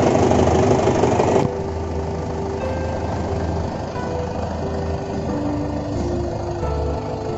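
A tractor engine idles steadily and fairly loud, set in low reverse gear for hitching an implement such as a disc plough; after a louder opening second the running hum settles and continues alone without talk.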